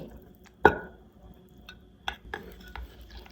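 A spoon stirs a homemade chicken dip in a bowl, giving one sharp clink of metal against the dish followed by a few softer scrapes and taps, close and fairly quiet.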